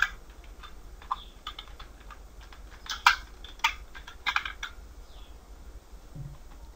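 Keys being typed on a computer keyboard while HTML code is entered, a quiet run of irregular clicks with short bursts of faster taps, close and alone without speech.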